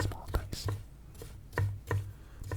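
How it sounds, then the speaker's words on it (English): A knife chops pickles into small dice on a cutting board in sharp, uneven strokes, close by, with pauses between bursts. "We're going to be adding the pickles to the burger sauce once they're chopped into tiny pieces"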